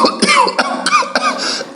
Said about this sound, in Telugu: మళ్ళీ వచ్చిందా మాయదారి దగ్గు?